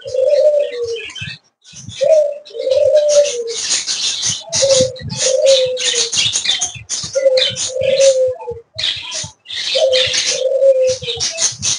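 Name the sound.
bird chirping and cooing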